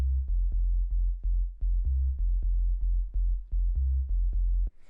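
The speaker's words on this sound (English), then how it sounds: "The first sound we have here is the bass, which sounds like this." A deep minimal house bass line at 126 BPM droning on F, repeated short low notes in a steady pulsing rhythm with clicky attacks, loud and alone.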